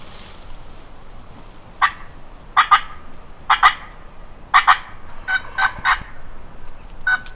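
Wild turkeys gobble in the Tennessee spring woods, several rattling calls in close pairs and clusters at moderate distance over a quiet outdoor background.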